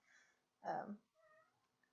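Cat meowing indoors: a couple of short, faint meows with one clearer, louder mid-length meow in between, close to the microphone.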